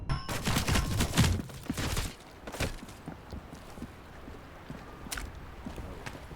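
SMG fire in a shooter video game, with dense bursts of sharp close shots packed into the first two seconds, then a few scattered single shots and clatter over a quieter, lingering background.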